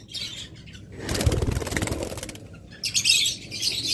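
Caged lovebirds chirping and flapping their wings at a bird dealer's shop, a loud burst of wingbeats in the middle with bright high tweets before and after, close by and without speech.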